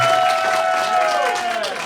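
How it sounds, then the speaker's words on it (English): A live audience at a comedy club podcast taping applauds and cheers, a dense wash of clapping with a sustained whistle gliding downward over it, loud and close. "Please give yourselves a round of applause and make it loud so they can hear you."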